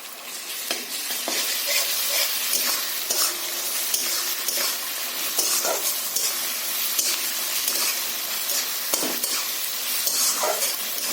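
Garlic paste fries in hot oil for a catla fish-head and jackfruit curry, a loud, continuous sizzle broken by frequent scraping and clinking of a stirring spoon against the pan.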